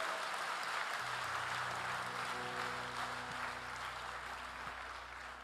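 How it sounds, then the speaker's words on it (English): Church congregation clapping for the Lord after a prayer, a steady wash of applause at moderate distance with a low hum and faint musical tones underneath, no speech. "A big hand clap to the Lord."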